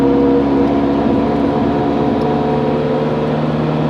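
An Italian sports car engine runs steadily at idle or low revs after warming up, a loud continuous throaty drone with strong low harmonics and no talk.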